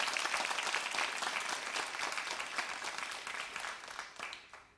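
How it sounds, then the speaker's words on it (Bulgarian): Studio audience applause at a Bulgarian television talk show, a dense steady wash of many hands clapping that fills the clip and thins slightly toward the end. "Да, аплодисменти."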